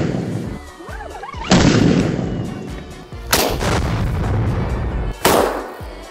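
Two loud, sharp blasts from a folding 12 gauge pump shotgun, a few seconds apart, each with a booming tail, and a lower rumbling report also near the start.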